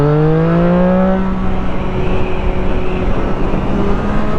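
A Triumph Street Triple R motorcycle engine runs close and loud, a revving whine sliding down in pitch before settling into a steady rumbling drone.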